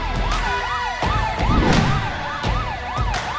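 An ambulance siren wails continuously with a rapid rising-and-falling tone, loud and close, mixed with repeated sharp clicks and a low rumble of traffic, with no voices.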